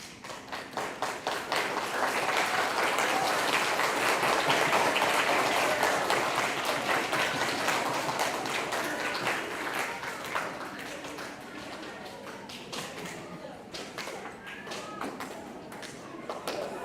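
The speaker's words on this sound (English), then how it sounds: "Applause for all our fifth graders." A crowd applauds fifth graders at a school graduation, with sustained, dense clapping that swells for several seconds and then gradually eases over nearly seventeen seconds.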